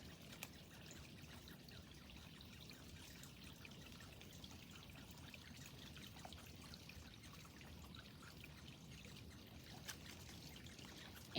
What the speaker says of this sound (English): You can see the running water right there.